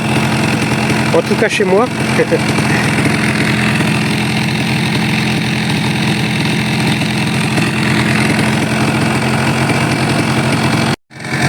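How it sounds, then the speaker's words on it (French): An old Cagiva Roadster 125 motorcycle engine idles steadily and loudly close by, a continuous even drone with a brief whine near the start; someone speaks briefly over it and the sound cuts out abruptly near the end. "le bouton pression start. C'est vieux, mais ça démarre toujours au quart de tour."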